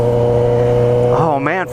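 A 2018 Suzuki GSX-S 750 motorcycle with its muffler removed and just a pipe fitted drones at a steady idle close up, then revs sharply upward near the end.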